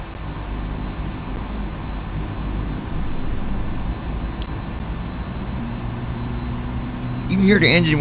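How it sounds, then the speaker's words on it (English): Aircraft engines spooling up in the Prepar3D flight simulator, a steady low droning hum that swells toward the end, with a voice speaking over it. "You can hear the engine when they're starting up like that right there"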